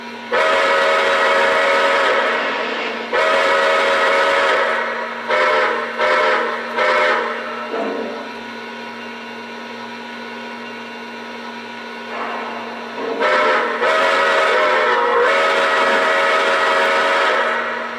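The steam whistle of a Greenbrier Chessie locomotive sounds in long, loud blasts, first two sustained calls, then a series of short stuttering toots, a lull with a lower steady tone, and another pair of long blasts at the end.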